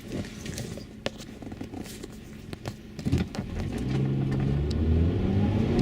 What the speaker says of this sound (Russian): Как обычно разгончик, вот газ. и мы едем.